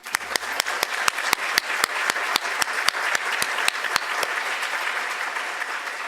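Audience at an art museum education study presentation applauds steadily for about six seconds, with a few sharp, distinct claps standing out over the broad wash of hands, no talking.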